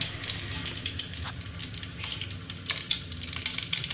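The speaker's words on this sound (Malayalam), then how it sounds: "ഇതേ എണ്ണ ചൂ ചൂടായിട്ടുണ്ട് നമുക്ക് അതിലോട്ട് കടുക് ഇട്ട് കൊടുക്കാം" Crackling, popping sizzle of mustard seeds in hot oil, steady and close, with scattered sharp pops throughout and no voices.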